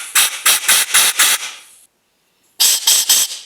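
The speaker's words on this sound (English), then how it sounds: "We're going to blow the holes out with some compressed air." Short repeated bursts of compressed air blow through the jet holes of a Yamaha 90 outboard carburetor, five quick hissing blasts, a pause of silence, then three more, close and loud.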